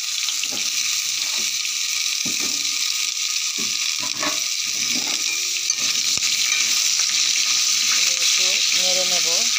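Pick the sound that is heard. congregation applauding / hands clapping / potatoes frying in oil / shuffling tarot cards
potatoes frying in oil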